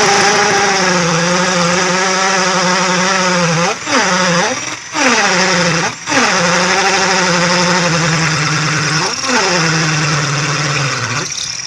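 A Dopard cordless drill runs continuously during a drilling test, its motor humming loud and close with a steady pitch that dips briefly several times as the bit loads up under pressure.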